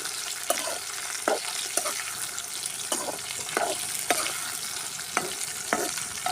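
Small shallots and tomato sautéing in a pan for drumstick tamarind kuzhambu, a low steady sizzle broken by regular spoon scrapes and taps at a slow, even stirring rhythm.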